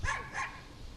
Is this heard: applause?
no